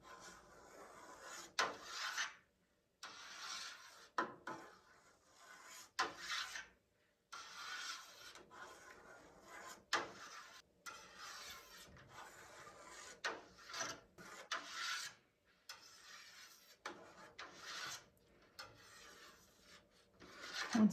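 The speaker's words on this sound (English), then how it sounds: "So doing your very best, cut the curds" Knife cutting cheese curds in a pot while making French tomme: repeated soft scraping and rubbing strokes come in uneven bursts with brief pauses between them, close and quiet.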